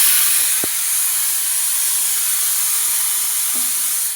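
A pressure cooker cooking chicken biryani lets off a steady, loud steam hiss that fills the whole stretch without pause, with a couple of faint clicks and no talking.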